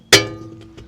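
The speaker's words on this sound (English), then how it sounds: "Hit this with a hammer to get it off." A hammer strikes a rusty front brake rotor on a Chevy Sonic: a single sharp metallic clang rings out and decays with a bright, bell-like tone, followed by two faint lighter taps.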